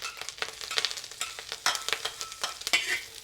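Dried shrimp and chopped garlic fry in oil over medium heat, with a steady close sizzle broken by a quick run of sharp spatula scrapes and stirring strokes against the pan.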